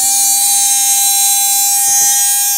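A cheap LiPo battery voltage alarm sounds a continuous, loud, high electronic tone, steady throughout, with a couple of faint knocks under it.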